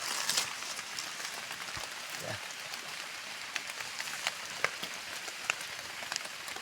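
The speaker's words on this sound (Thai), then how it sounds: "โอ้ฝนจ้ะ" Steady rain patters down in a forest during a mushroom-foraging outing, a continuous soft hiss with scattered sharper drop ticks, moderately close and without any voices.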